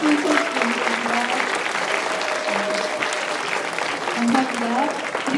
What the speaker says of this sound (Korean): 다 같이 큰 소리로 박수 쳐주시겠습니다